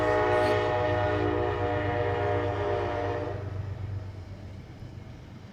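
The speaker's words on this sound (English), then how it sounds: "Let the train go by." A train rumbles past nearby with a steady low drone and horn-like tones, gradually fading toward the end.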